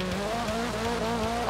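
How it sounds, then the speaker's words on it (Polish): Car engine in Forza Horizon 3 driving off-road at night, a steady revving drone with small pitch shifts as the car bumps along, holding a constant level and swelling at the end. "I teraz jedziemy na przełaj."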